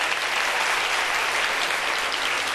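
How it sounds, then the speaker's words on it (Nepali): Audience applause, a dense, steady clapping from a crowd that holds at even loudness throughout. "तालियाँ किस तरफ ज़्यादा बजेंगी"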